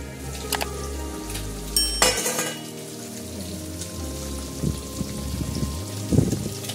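Amodi fish curry with flat beans and potatoes simmers in a pan, giving a steady bubbling, sizzling hiss with a few soft clinks, no voices over it.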